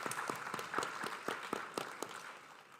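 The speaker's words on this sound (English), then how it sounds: "I think we all should give them a round of applause" Audience clapping at a school academic awards night, a thin scattering of distinct, fairly quiet claps from a modest crowd, no talk.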